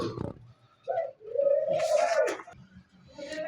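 Pet birds kept in cages give a few close, throaty cooing calls, one long drawn-out note in the middle, with short gaps of quiet between them and no talking.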